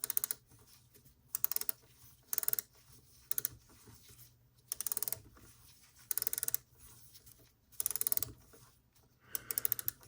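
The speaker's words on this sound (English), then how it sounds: "So I'll get my little mini ratchet here." A mini ratchet tightens a bolt in repeated short bursts of rapid metallic clicking, close and fairly quiet, with brief pauses between strokes and no speech.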